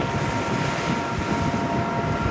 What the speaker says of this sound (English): It's very windy, so I'm having to hold onto my hat.